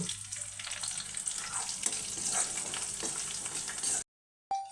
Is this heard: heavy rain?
no